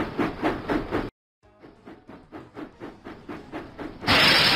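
Rhythmic chuffing of a steam engine in a Thomas and Friends video game, a steady series of puffs that pauses briefly, resumes, then ends in a loud burst of hiss.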